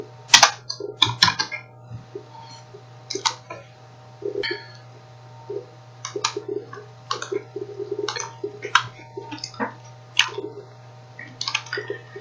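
A computer keyboard is used to type JavaScript code, with irregular bursts of close clicking keystrokes and pauses over a low steady hum.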